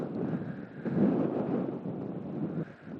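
Steady wind buffeting an outdoor microphone on a coastal path near a lighthouse above a rough sea at Wineglass Bay, a low broadband rumble that swells and eases slightly, no voices.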